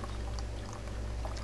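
Raw milk pours in a steady, close, continuous liquid stream from a separating vessel, with a low hum beneath and no talking.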